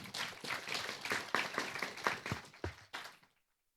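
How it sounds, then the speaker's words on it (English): Applause from a forum audience for a panel at an AI security and governance session, a few seconds of scattered clapping that builds and then dies away to silence. "Let's give them a round of big applause"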